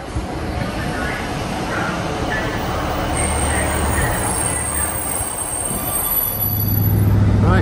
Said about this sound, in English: here's our next train. Local service to Hull from York.